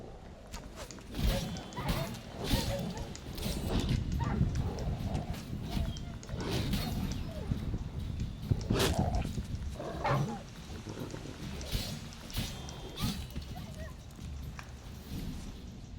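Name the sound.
stray dogs attacking in the video game The Witcher 3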